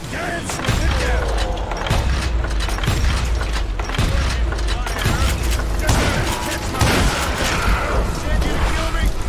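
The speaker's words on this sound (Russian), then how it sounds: "То есть я в него выстрелил" Gunfire in the Western video game Call of Juarez: Gunslinger, shotgun blasts among them, with repeated booming shots at a steady pace over continuous loud game action and a background score.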